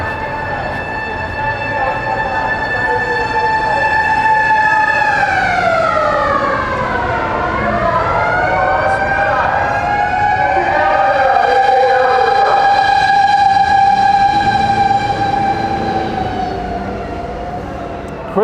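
A fire truck siren wails up and down through a busy street in Ueno at night, loud and close and sweeping in pitch, over steady city rumble that may include passing trains.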